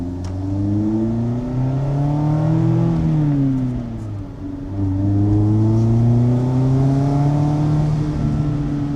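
A Mazda Miata engine revs hard and accelerates, its pitch climbing through gears, dipping at a shift and rising again, loud and close from inside the car.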